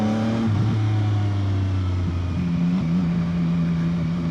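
A CFMoto 675SR-R motorcycle from 2025 on a test ride, its engine holding a steady drone with pitch shifts as revs drop and climb again, loud and continuous with no talk.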